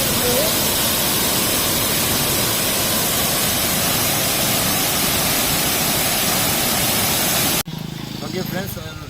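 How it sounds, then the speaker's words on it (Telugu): A powerful waterfall at Bhairavakona in Prakasam District at night, a loud, unbroken rushing roar of heavy flow close by that cuts off abruptly near the end, leaving a quieter background. "ఎంత ఫ్లో వస్తుందంటే వాటర్"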